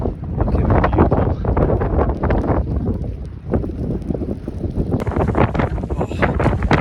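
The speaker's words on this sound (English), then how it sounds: "So it's definitely a little bit windy up here." Strong winter storm wind of around 60 mph buffets a Snowdonia mountainside camp amid snow and hail, a loud continuous roar with gusting microphone buffeting throughout.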